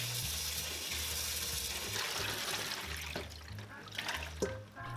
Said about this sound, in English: we're going to rinse the napa cabbage in running water for a few minutes